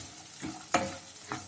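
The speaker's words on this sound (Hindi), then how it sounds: "अभी हम इसके अंदर सेंगदाना डाल देंगे।" Peanuts being dry-roasted and stirred in a pan over a medium flame, heard as a few short scraping rattles from the stirring over a faint background, no voices.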